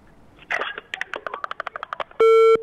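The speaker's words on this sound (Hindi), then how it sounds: "जी हमारी कॉल ड्रॉप हो चुकी है।" A dropped telephone call on a live TV call-in line: a rapid run of clicks and crackling pulses, then a loud steady line tone that holds briefly and cuts off.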